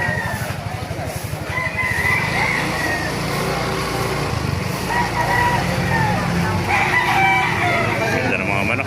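Roosters crow repeatedly amid the busy clamor of a chicken market in Baliwag, Bulacan, with other fowl clucking and a steady low mechanical drone underneath, and people talking in the background.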